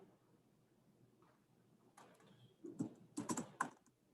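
A few quick keystrokes on a computer keyboard, soft at first and then a close, clustered burst of clacking taps in the last two seconds, with no talking.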